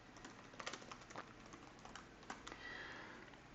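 Quick, light keystrokes on a computer keyboard as a sticky-note message is typed, a soft irregular patter of close taps in a quiet room with no talking.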